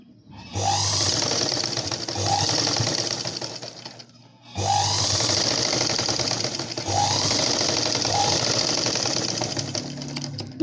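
Sewing machine stitching blouse cloth, two sustained bursts of rapid mechanical whirring separated by a brief pause, close and loud, with no speech over it.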